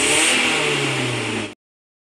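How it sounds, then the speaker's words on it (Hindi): A car engine, being checked for an immobilizer security fault, roars loudly at high revs and holds there briefly before the sound cuts off abruptly. "अब गाड़ी स्टार्ट हो जाएगी हमारी।"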